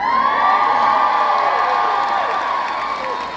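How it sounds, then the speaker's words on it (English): Concert audience at a show in Toronto cheering and whooping loudly and steadily throughout, a dense crowd roar that stays strong before easing slightly at the end. "you're very kind to cheer, thank you so much"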